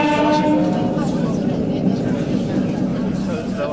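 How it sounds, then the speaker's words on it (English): Steady rumble and rattle of a Japanese train along the Nakasendo route slowing toward its stop near Takayama, continuous and close from inside the carriage, with faint talk mixed in. "we realized we were nearing the end of the train ride"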